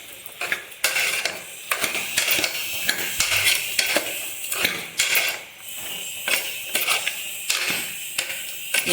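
Bottle gourd and onions sautéing in a pan, with frequent sharp metallic scrapes and clinks of a spoon stirring against the pan over a faint sizzle, close and alone.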